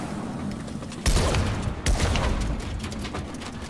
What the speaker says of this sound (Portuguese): Eu vou atirar.